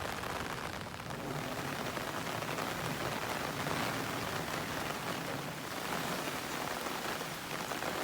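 Heavy typhoon rain pours steadily onto surfaces outdoors in hot, sticky weather, a dense, continuous wash of drops that stays loud and even throughout with no voices.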